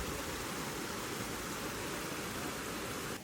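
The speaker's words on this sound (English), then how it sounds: "there's the waterfall" A waterfall by a koi pond and footbridge in London gives off a steady, close, full rushing of falling water that holds even throughout, with no voices.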